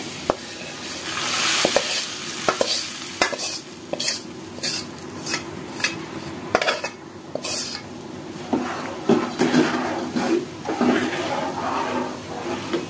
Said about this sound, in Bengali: তো এখানে আমি এখন বাগারটা দিয়ে দিই ঢাইলে